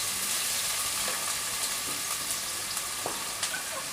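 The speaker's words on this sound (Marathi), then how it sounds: "चला आता आपले तेल तापल्याच्या नंतर आपण यामध्ये ना कांदा घालूया" Onion, tomato and chili frying in hot oil over a low gas flame for a spicy railway-canteen-style misal: a steady, close sizzle with a few faint clicks and crackles, no voices.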